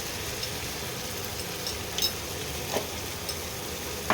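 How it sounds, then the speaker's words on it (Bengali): A masala paste of curd and cashews, seasoned with salt, fries in a pan for doi aloo dum, a steady soft sizzle with a few faint scraping stirs, close by and without voices. "এবার মশলাটা একটু কষিয়ে নিই"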